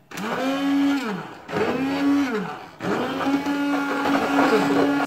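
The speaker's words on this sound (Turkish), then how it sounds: "Bunu da şimdi blenderdan geçirip diğerinin üzerine ilave edeceğim." A blender whirs loudly in three bursts, the motor pitch dipping and rising as it purees plums, with brief pauses between runs.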